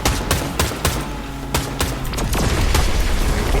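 Gunfire in the video game Fortnite, with rapid loud shots and bursts cracking out one after another over a dense, busy game soundscape.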